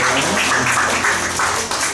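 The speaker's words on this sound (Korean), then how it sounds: "우리 박수라도 한번 쳐드렸으면 좋겠어요" A church congregation clapping together during a worship service, a dense, steady burst of applause that carries on without a break.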